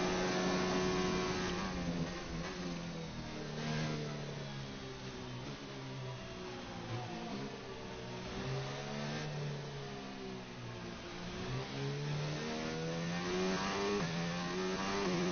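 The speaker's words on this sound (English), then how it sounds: "Through the final corner, open up the car for one final time then here in Q2." F1 car engine from F1 2019 screaming through a qualifying lap at China, a steady high-pitched whine rising and falling with gear changes and throttle, continuous and fairly quiet with no talk over it.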